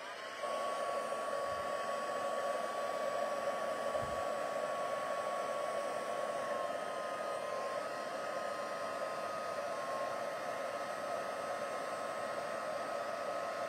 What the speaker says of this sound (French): je vais utiliser un fer, le fer Stampin' Up. Et j'y vais. Alors, ça va faire un petit peu de bruit